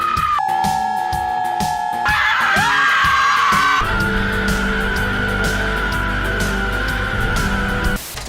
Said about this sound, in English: it wouldn't be a feminist empowerment movie without a feminist empowerment scream